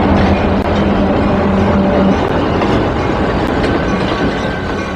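A train rolls past on rails, a loud, steady rumble of wheels with a faint clickety-clack running through the whole stretch, close by and continuous with no talk.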